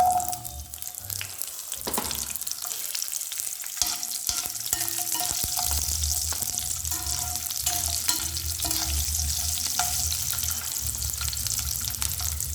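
Garlic fries in hot oil for a curry leaf curry, a steady close sizzle with occasional stirring scrapes and clicks of a spoon against the pan, no talking.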